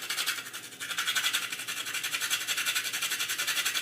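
Whole nutmeg rubbed on a grater makes a steady, rhythmic rasping scrape, close and fairly loud, with quick repeated strokes throughout and no speech.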